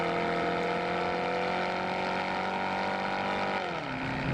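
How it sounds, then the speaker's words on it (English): Chevrolet SS sedan engine, a steady loud droning note that holds constant before dropping in pitch near the end as the car eases off, with no talking. "What's great about the SS is the engine note."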